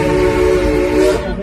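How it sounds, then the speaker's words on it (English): A steam locomotive whistle gives a loud, close, sustained toot with a rich chord-like tone, held steadily for just over a second before cutting off. "You give us 2 more toots on that whistle."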